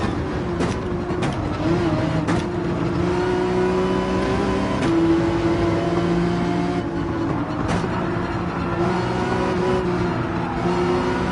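A car engine in Gran Turismo 7 revs and accelerates toward 160 mph, a steady droning whine climbing through the gears with brief shift breaks, loud and continuous with no voices.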